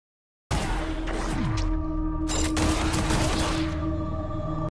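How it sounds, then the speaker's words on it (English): Rapid gunfire in a video game trailer, a sustained fusillade with booming hits and sweeping tones, loud and steady from start to end, no talking. "The gunfire, the feedback of hitting those shots."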